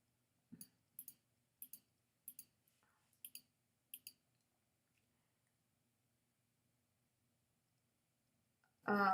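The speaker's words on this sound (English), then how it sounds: "So left click your mouse" A left mouse button clicks about six times in a steady, evenly spaced series, crisp and close in a quiet room. A few seconds of near silence follow before a voice begins speaking.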